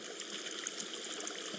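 Water splashes and trickles as a video game character wades into it in a horror survival shelter-building game, a faint, continuous sloshing with light bubbly detail and no voices.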